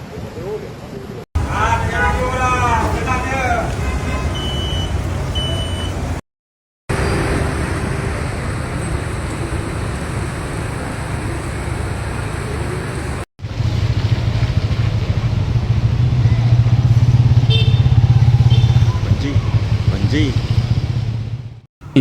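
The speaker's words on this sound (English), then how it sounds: "A heavy evening downpour caused severe traffic congestion across central Kuala Lumpur" Road traffic in central Kuala Lumpur during a heavy evening downpour and flooding near KLCC, with vehicles rumbling and idling in congestion. A steady low engine drone runs throughout, brief cuts interrupt it, and a voice speaks over the early part.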